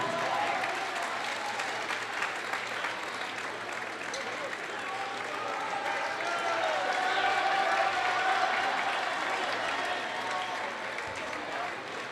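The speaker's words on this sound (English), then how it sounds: "Let's give him a big round of applause." Sustained audience applause fills a gym at a high school basketball championship awards ceremony, steady and dense for about twelve seconds, with crowd voices and cheers mixed in and swelling slightly near the end.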